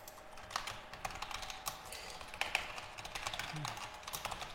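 Quick, steady clicking of keys on a computer keyboard, close and fairly quiet, with no one talking over it.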